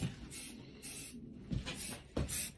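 A spray paint can lays primer onto seat parts in three short hissing bursts separated by brief pauses, close and fairly soft.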